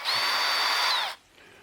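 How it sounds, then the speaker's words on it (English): A power drill spins a log splitting cone into wood to cut kindling, a loud steady whine held for about a second before cutting off, followed by a faint quieter tail. "Barrett, did you say you cut kindling with a drill?"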